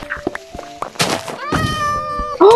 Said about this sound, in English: There's an orange cat.